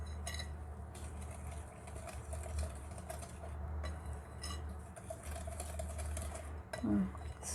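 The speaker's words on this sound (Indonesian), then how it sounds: "Masukkan sedikit demi sedikit tepung. Kemudian aduk rata ya." A spoon works through pukis cake batter after flour is added, producing soft scraping and occasional light clinks against the bowl in a steady, continuous rhythm, close and fairly quiet.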